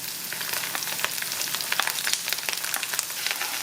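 Mustard seeds, cumin and chopped green chillies frying in hot oil, giving a steady, close crackling sizzle with sharp spattering pops throughout and no talking.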